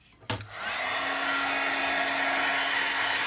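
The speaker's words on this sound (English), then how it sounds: "Then you want to go ahead and get your heat gun out." A heat gun blows hot air during a steampunk mint tin craft project, switching on with a click and then settling into a steady, loud, close rushing hiss that holds to the end.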